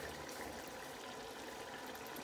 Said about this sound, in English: now I hear a sizzling, but I also hear like a boiling sound because of the little excess water that the potatoes have.